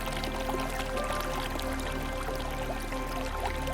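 Water running along the Chorro irrigation channel, an old Moorish-built watercourse in Istán, Málaga, making a steady, close, unbroken rush with fine trickling texture and no pauses.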